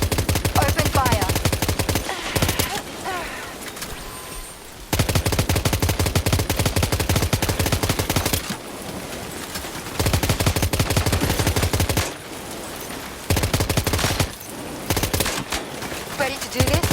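Gunfire in the Death Stranding 2 video game, with long loud automatic bursts of rapid shots separated by brief lulls, close and dominant throughout.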